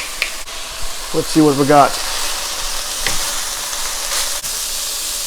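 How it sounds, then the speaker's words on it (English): Ground beef browns in a pan for a beef noodle stir fry, giving a steady, close sizzle and crackle with a few sharper pops, while a voice talks briefly partway through. "And let it fry and get color."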